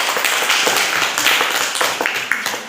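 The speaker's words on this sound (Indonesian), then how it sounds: "Aplaus." Classroom audience claps after a group presentation, a brisk burst of many hands applauding together, loud and close, tapering slightly toward the end.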